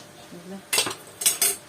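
Eggplants tipped into a pan and stirred while roasting: three sharp metallic clatters of utensil against pan, close and fairly loud, the first a double hit, after a quiet opening.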